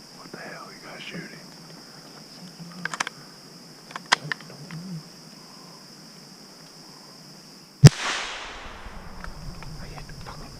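A single air rifle shot during a late-season squirrel hunt rings out as one sharp, close crack with a short decaying tail, after quiet outdoor ambience, soft whispering and scattered small clicks.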